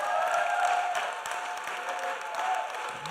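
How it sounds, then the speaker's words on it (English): Church congregation clapping for the worship crew, a steady, moderately loud rush of many hands heard from within the room, with no break throughout. "can you please give a clap offering to Sam and his crew back there?"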